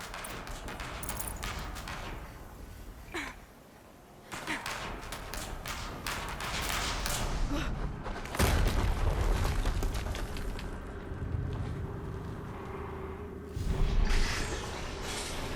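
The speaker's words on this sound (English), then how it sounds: "Another explosion." Heavy explosions in the video game Horizon Zero Dawn, in the Maker's End ancient ruins, with loud booming bursts near the middle and end over a steady wash of game noise and rumble.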